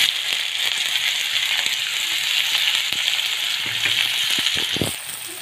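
Onions frying in hot mustard oil that has been tempered with cumin and panch phoron, a continuous close sizzle and crackle with occasional stirring clicks from the pan and no talk over it.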